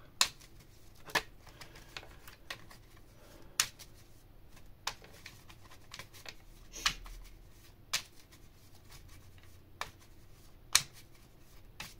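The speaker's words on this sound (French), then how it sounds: "Alors les phases de battement, entre guillemets, de cartes peuvent prendre plus ou moins de temps" Tarot cards being shuffled by hand, heard as sparse, crisp riffling snaps and slaps at irregular intervals over a quiet room background.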